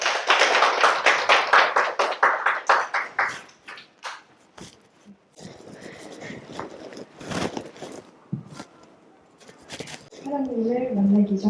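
A church congregation at a Thanksgiving Sunday service claps in encouragement for a young woman stepping forward, a loud burst of applause that fades over a few seconds, followed by quieter shuffling and a voice beginning to speak.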